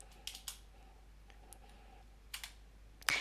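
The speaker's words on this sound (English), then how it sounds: "I'm going to type there" A computer keyboard is typed on in a few quiet, sparse clicks and short bursts close by, in a near-silent room. A louder clatter comes at the end.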